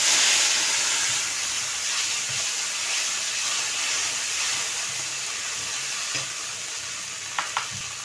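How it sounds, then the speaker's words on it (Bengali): Bay leaf and cumin temper in hot oil for a village-style tilapia curry with taro and potato, a loud, continuous close sizzle and hiss that fades slightly, with a few soft knocks near the end and no voices. "এবার আমি তেলটা দিয়ে দিলাম, তেজপাতা, জিরে ফোড়ন দিলাম"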